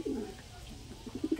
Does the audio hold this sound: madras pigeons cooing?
yes